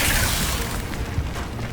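A Confringo fire spell detonates in the Hogwarts Legacy video game, giving a loud, sustained rumbling boom with a dense low-end blast that holds steady across the moment rather than fading quickly.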